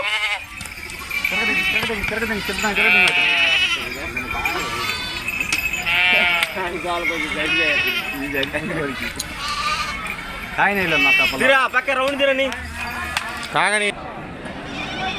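Sheep and goats bleat repeatedly at a large livestock market, overlapping calls near and far, with people talking throughout.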